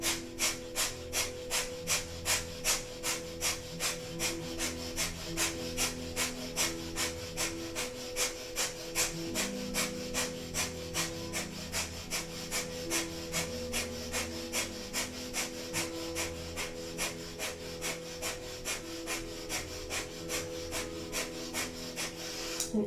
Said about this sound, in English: Breath of fire here.